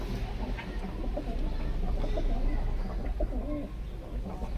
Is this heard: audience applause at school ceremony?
no